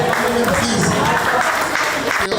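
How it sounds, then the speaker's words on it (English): Loud applause from an audience at a Lagos youth empowerment program, clapping hands blended with crowd voices and cheering in a dense, continuous roar. "Please, a round of applause for her,"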